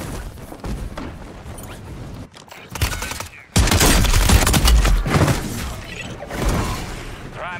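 Shotgun blasts and gunfire in Call of Duty Warzone, from a SPAS 12, come in loud close volleys, the heaviest burst hitting midway, amid busy game noise.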